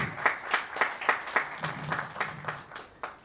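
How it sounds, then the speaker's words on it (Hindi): Applause from an audience at a Lions Club installation ceremony, a few distinct hand claps standing out in a steady rhythm, moderately loud, with no speech over it. "इनके लिए जोरदार ताली।"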